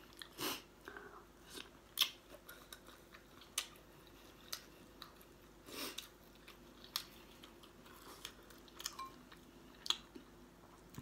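Someone eats spicy Thai shrimp larb with fresh vegetables, making close, quiet crunchy bites and moist chewing in irregular bursts with soft pauses between.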